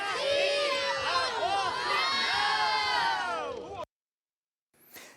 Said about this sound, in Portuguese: Centenas de vozes que gritam para que a dignidade humana seja sempre respeitada.